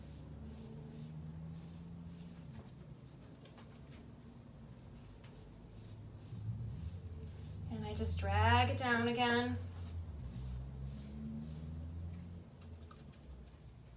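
A nearly empty aerosol can sprays in short sputtering bursts, the hiss thin and uneven, while a person talks quietly around it.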